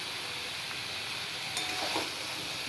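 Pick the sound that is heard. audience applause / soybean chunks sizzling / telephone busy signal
soybean chunks sizzling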